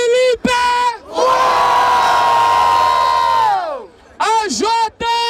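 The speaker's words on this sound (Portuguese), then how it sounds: "Barulho para cima do Felipe" Rap battle crowd roaring and shouting in a packed outdoor space, loud sustained cheering that swells for a few seconds between bursts of amplified shouting from a host.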